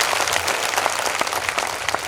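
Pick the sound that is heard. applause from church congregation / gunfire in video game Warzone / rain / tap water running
applause from church congregation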